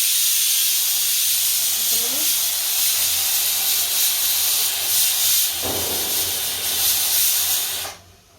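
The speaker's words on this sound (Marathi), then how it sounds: "लावलेला आहे कुकर बघा" A pressure cooker cooking rice hisses steam in a loud, continuous rushing spray close by, with faint talk underneath, cutting off abruptly near the end.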